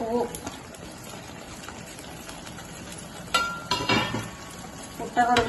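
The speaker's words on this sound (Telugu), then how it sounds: "ఇప్పుడు దీంట్లో మనం ఈ పుట్టగొడుగులు ఉడకబెట్టి వేసుకుందాం" Boiled mushrooms go into a thick curry in a pan, with soft sizzling under intermittent scraping and clinking of a spoon against the pan, ending in louder stirring bursts.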